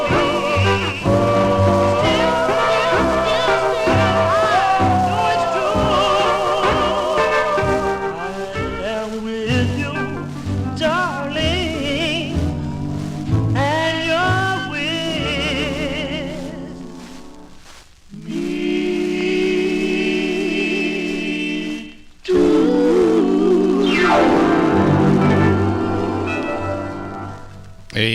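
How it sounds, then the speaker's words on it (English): The Dominoes' 1951 doo-wop record "I Am With You" plays from a vinyl 45, with harmonised vocals and backing instruments running continuously, briefly dipping before swelling back. "That's the Dominoes from July 1951"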